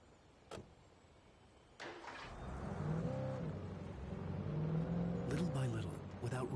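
Car in Alan Wake Remastered, a couple of sharp door-like clunks, then an engine starts and revs with rising and falling tones, growing louder as it drives, with some talk in the background.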